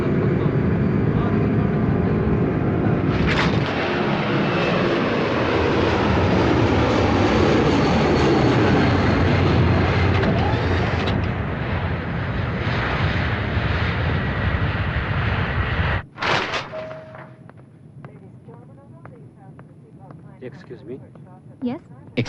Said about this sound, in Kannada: ಫ್ಲೈಟ್ ಟೇಕ್ ಆಫ್ ಆಯ್ತು